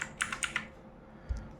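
Four quick, soft keystrokes on a computer keyboard while entering a password during a ZorinOS installation, then a single dull thump, close by in a quiet room.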